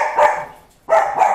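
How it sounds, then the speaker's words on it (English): A dog barks at home during a shopping haul, two sharp close barks with a short pause between, loud and alone. "She's going to bark because she's crazy."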